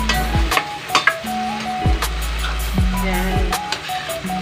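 Garlic, already burning, fries in a pan with a steady close sizzle and occasional stirring scrapes, while a droning hum and faint tones run underneath throughout.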